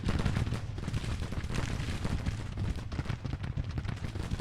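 Dense musket and rifle volleys crackle continuously in a Grand Tactician: The Civil War battle, with overlapping shots, rumbling low booms, and a loud, sustained roar of gunfire.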